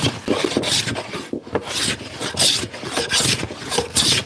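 A hand plane works across a small wooden table top, giving repeated rasping strokes in a steady rhythm, each pass a broad scraping rush, close and fairly loud with no talk.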